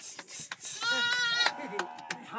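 Sheep and goats bleat close by in a Zanskar village in winter, one long quavering call overlapping shorter bleats, with scattered clatter and a voice in the background.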